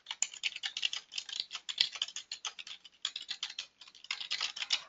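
A comment is typed on a computer keyboard in quick, steady bursts of soft key clicks with a brief pause midway, close and fairly quiet, with no talking.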